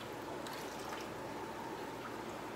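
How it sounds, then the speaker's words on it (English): Clean water scooped from a container and poured to top off a fish tank in a fish room, heard as a steady, moderately faint splashing and trickle with no talk. "I can take one of these fresh containers and take a big scoop of clean water."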